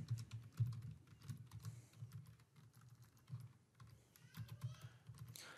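Quiet, uneven keystrokes tap on a computer keyboard as a workflow name is typed in, soft clicks in short bursts with small pauses and no talking.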